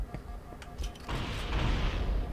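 Explosions in a first-person shooter game on the Truth and Reconciliation level in LASO mode: scattered thuds, then a loud rumbling blast that rolls on and sustains toward the end.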